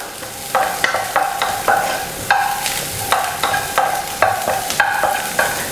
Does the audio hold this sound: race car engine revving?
no